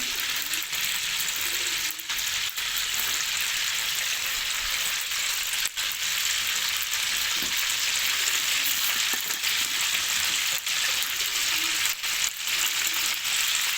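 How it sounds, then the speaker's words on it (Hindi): Whole spices (black cardamom, cinnamon and cumin) fry in hot oil for a white qorma, giving a steady, close sizzle that runs throughout with a few soft stirring scrapes and no talking. "एक मिनट के लिए इसको फ्राई कर लेना है अच्छे से"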